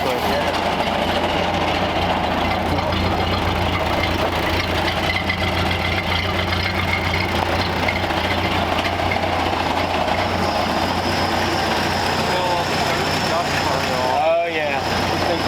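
A 1931 Ford Model A Coupe engine idles roughly after long storage, with a steady loud, uneven mechanical drone running throughout and a brief whooshing sweep near the end.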